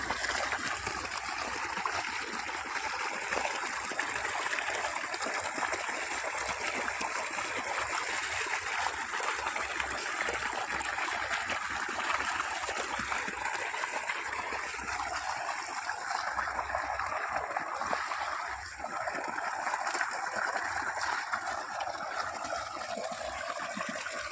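Clear water pours and trickles steadily at close range, a continuous bright splashing stream with no voices over it.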